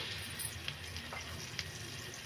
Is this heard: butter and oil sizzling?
yes